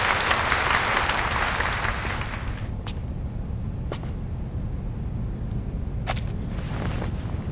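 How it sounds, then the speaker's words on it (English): Crowd applause in the video game Reverse 1999 fills the opening couple of seconds, then fades away, leaving a low rumbling background with a few faint sharp clicks. "The applause stops."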